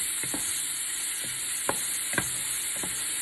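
Onions simmering in a pan with sausage and hamburger give a steady, close sizzle, broken by a few soft spatula scrapes as they are moved around.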